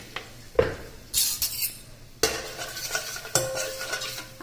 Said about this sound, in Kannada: ಸ್ವಲ್ಪ ಎಣ್ಣೆ ಹಾಕ್ಕೊಳ್ಳಿ ಪಾತ್ರಕ್ಕೆ ಆಮೇಲೆ ಒಂದಿಷ್ಟು ಖಾರ ಪೌಡ್ರ್ ಹಾಕಿ